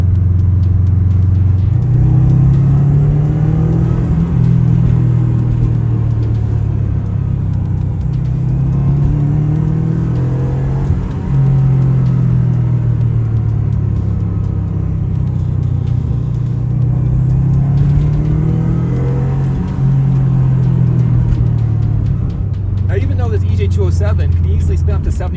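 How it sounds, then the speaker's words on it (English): Subaru EJ207 engine under full-throttle pulls heard from inside the car, a loud steady rumbling drone that rises in repeated sweeps through the gears, with a brief shift near the end. "I'm going to go ahead and do some full throttle pulls so you guys get a better idea of what this EJ207 sounds and feels"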